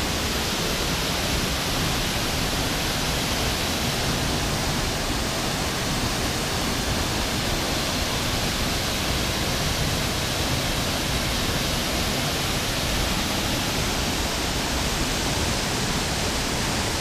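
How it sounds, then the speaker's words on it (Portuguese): Waterfall at Cachoeira do Lobo roaring steadily and loudly, a dense, unbroken rush of falling water that fills the whole 17 seconds with no voices over it. "Olha só que cachoeira magnífica essa aqui."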